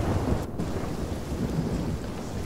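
Heavy rain and storm noise at sea in the game Sea of Thieves, a dense, steady roar with low rumbling thunder underneath, loud and continuous with no talking.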